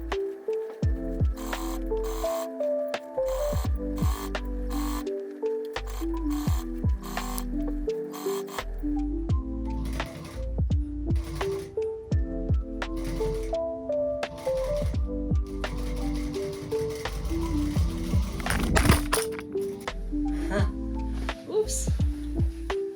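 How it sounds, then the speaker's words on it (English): A sewing machine stitches the pockets of a knife pleat Roman shade, its rapid mechanical chatter starting and stopping in bursts beneath a person talking throughout. "that's why I like to use this machine to sew the pockets"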